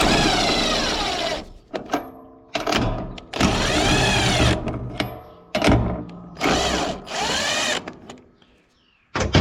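An impact wrench runs a nut off on a Gleaner R72 combine, whirring loudly and up close in several sustained bursts separated by short pauses.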